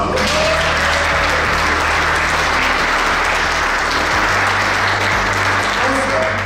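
Conference audience at a speaker session giving a loud, sustained round of applause, thick continuous clapping close and full throughout, with a low hum running underneath.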